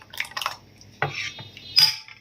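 Thin egg and coconut milk dosa batter is scooped with a ladle and poured back into a bowl: a few close wet splashes and drips with light clinks of the utensil against the vessel.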